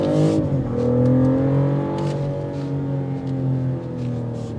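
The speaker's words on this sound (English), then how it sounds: "That straight 6 just opens up." A 2025 BMW X6 xDrive40i straight-six engine revs steadily under acceleration, a smooth continuous drone with rising and settling pitch, close and loud throughout.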